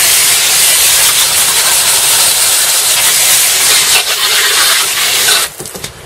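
A pressurized water spray hisses loud and close while rinsing the fenders and engine bay of a Bentley during detailing, a continuous broad spray that breaks off into sputters near the end.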